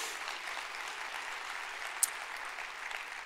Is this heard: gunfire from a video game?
no